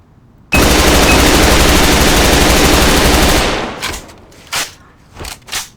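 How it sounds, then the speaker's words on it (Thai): A K-2 rifle on full auto in the Korean-server shooter game A.V.A fires one loud, unbroken burst for about three seconds, followed by a few scattered clicks and thuds. "โอเคเดี๋ยวลองยิงดูแบบยิงรัว"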